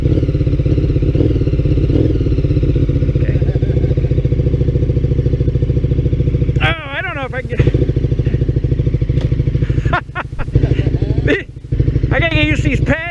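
A KTM 1290 Super Duke motorcycle engine runs loud and close at a steady idle throughout, with a few short revs, while voices talk over it.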